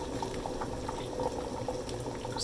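Tonkotsu pork broth at a rolling boil in a ramen kitchen as onion, leek, ginger and garlic go in, a steady low bubbling churn, fairly quiet and continuous with no voices.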